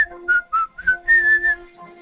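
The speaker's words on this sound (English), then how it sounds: "Do you get to whistle while you work?" A person whistles a short melodic tune, clear and close, with several distinct phrases and brief pauses between them.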